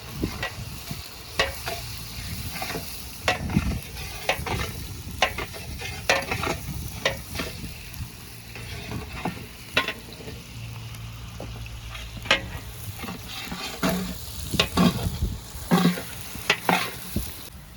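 A large pot of 1.5 kg onions frying for chana chawal, stirred with a ladle, giving a steady sizzle broken by repeated scraping and clattering strokes, close and fairly loud with no talking.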